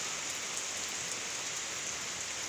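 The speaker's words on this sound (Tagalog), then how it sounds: "umuulan na medyo malakas ang hangin" Steady rain hisses down without pause during Typhoon Goring, a dense, even wash of drops on surfaces with no voices.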